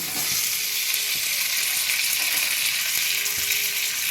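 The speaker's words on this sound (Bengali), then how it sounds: "এই বাটারের সাথে ভেজে নেবো ভালো করে আর একটু জিরে দিয়ে দিলাম টমেটো দিয়ে দিচ্ছি" Spices frying in butter with cumin and tomato, giving a dense, continuous sizzle that stays loud and even throughout, with a few faint clicks of the pan and no voices.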